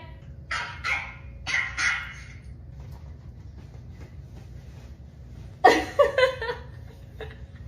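A dog barks in short bursts, pauses, then lets out a quick run of sharp barks and yips up close over a low steady hum.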